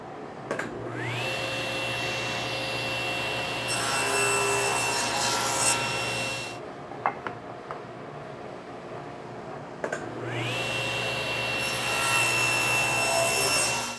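Power saw cutting wooden rail pieces for frame-and-panel cabinet doors, a steady loud whine in two long passes separated by a brief pause, with rasping cut noise.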